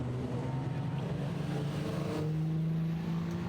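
A Chevrolet-powered Super TT race car pulls away from its pit at Sydney Motorsport Park, its engine droning and rising steadily in pitch, moderately close.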